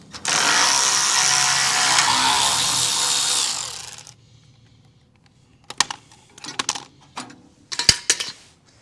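A power ratchet removing bolts from the radiator support of a 1983 Ford F150 bullnose pickup, a loud continuous whirring run of about four seconds, then silence and a few scattered clanks and taps.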